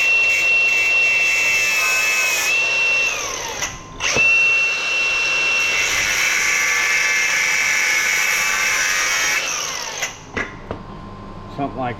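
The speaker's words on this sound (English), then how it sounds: "I'm just gonna cut this outer ring off and use this with a hose clamp" Power tool cutting the outer ring off a brass alternator part, a steady high whining grind running loud and continuous for most of the stretch with a brief break, then stopping, with a few small clanks at the end.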